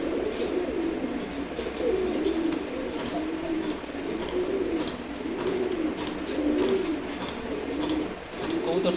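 Pigeons coo steadily in a repeating rolling rhythm while pecking at grit, several birds close by with a soft continuous murmur of cooing throughout.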